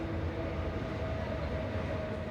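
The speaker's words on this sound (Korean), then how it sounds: "열차 한 대가 구포역으로 들어섭니다." A train pulls into Gupo station in Busan in the dim early morning, a steady rolling rumble of rail cars with a faint sustained tonal whine, continuous and fairly close, with no voices.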